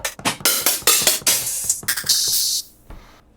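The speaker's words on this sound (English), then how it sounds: "So hi-hats closed." Closed hi-hat samples triggered one after another on an MPC drum machine, a run of short crisp ticks followed by a longer sustained hiss near the end, with no talking.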